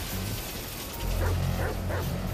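Dog in the video game GTA 5 giving a few quick yips and barks amid game background noise, moderately loud and close.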